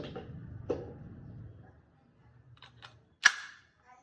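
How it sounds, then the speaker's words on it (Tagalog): Sharp mechanical clicks and clacks as the magazine is pulled from a Tokyo Marui Mk18 airsoft rifle that has just run out of BBs, a few scattered handling noises, then one loud crisp snap near the end. "Tanggalin yung magazine."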